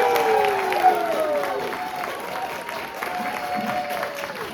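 Audience at a Startup Weekend event in Orlando claps and cheers a team onto the stage, steady dense applause filling the room while a voice talks over it.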